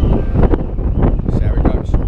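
Gusty wind on a moving ferry buffets the microphone with a low, constant rumble, while a voice speaks faintly underneath.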